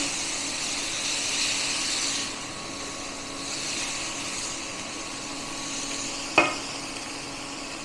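A spice mixture with kasuri methi and boiled potatoes is stirred in a pan, giving a soft, steady sizzle and scraping, then a single sharp utensil clink near the end.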